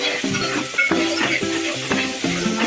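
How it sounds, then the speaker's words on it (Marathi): Onions and ginger garlic paste fry for chicken curry, giving a loud, close sizzle with rhythmic stirring strokes repeating about every half second and no voices. "आणि छान अद्रक लसूण पण परतलं की मग आपण टोमॅटो घालूया"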